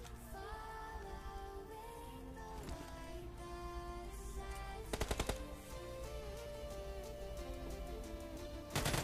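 Gunfire in the battle-royale mobile game BGMI (Battlegrounds Mobile India) during a solo versus squad match: rapid automatic bursts under layered game music and effects, with a louder cluster of shots near the middle and another at the end.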